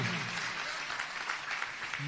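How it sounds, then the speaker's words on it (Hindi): An audience at a Jain religious discourse breaks into steady, dense applause that fills the whole stretch at moderate loudness, with a voice faintly audible underneath. "जोरदार तालियां बजाइएगा।"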